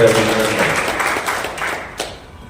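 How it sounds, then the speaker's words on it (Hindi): Audience applause at a party workers' conference, loud clapping that starts strong and gradually fades over a couple of seconds. A voice speaks at the beginning, over the clapping. "एक बार जोरदार तालियों के साथ स्वागत करें"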